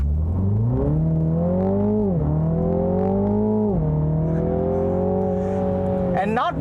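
A 2021 Mini Cooper JCW GP front-wheel-drive hot hatch accelerating hard with torque steer, its engine rising in loud, close revs through two quick upshifts before easing off near the end.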